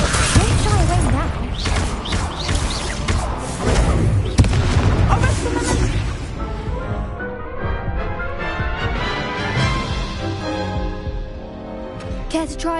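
A fire spell from Hogwarts Legacy bursts out as a loud, booming blast with crackling, explosive texture that fades over several seconds. A voice speaks over it.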